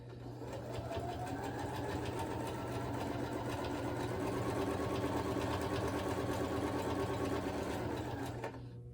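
A sewing machine stitches a dog kerchief in one continuous run, its quiet, steady motor hum and fast rhythmic needle clatter lasting nearly nine seconds without talk.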